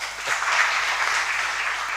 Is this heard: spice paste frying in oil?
no